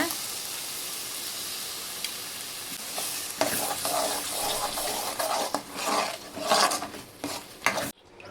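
Loud hiss as ground tomato is poured into a hot pan of spices and stirred, swelling, with scraping and bubbling before cutting off sharply.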